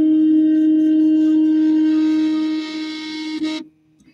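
A Prusa MK2.5 3D printer runs its stepper motors while printing 0.6 mm wide perimeters, giving a steady, loud tonal whine with harmonics that holds for over three seconds and then cuts off abruptly, leaving quiet.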